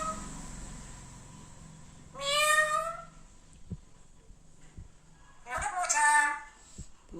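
A pet parrot imitates a cat's meow twice, each call a drawn-out, close, fairly loud mew separated by a few seconds of quiet room noise with faint knocks.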